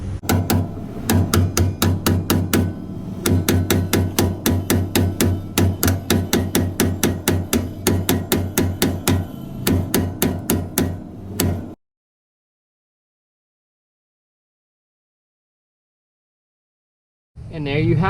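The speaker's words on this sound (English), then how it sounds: "The upper ball joint has been separated from the knuckle, thanks to the pickle fork." A hammer strikes a pickle fork to separate the upper ball joint from the knuckle on a 1967-87 Chevrolet C10. Loud, sharp, metallic blows repeat rapidly for about twelve seconds, followed by silence and then a brief noise at the end.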